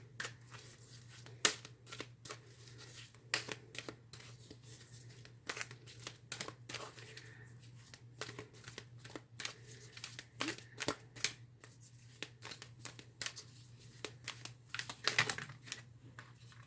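Oracle cards from the Angel Answers Oracle deck being shuffled and pulled in a quiet room: a long run of soft, dry riffling and tapping clicks in uneven bursts over a low steady hum, with no talking.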